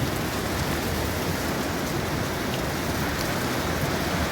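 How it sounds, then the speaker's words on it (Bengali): Heavy early-morning rain pours steadily in Dhaka, a dense, even roar of drops on surfaces with no let-up, close and loud. "ঝুম বৃষ্টি"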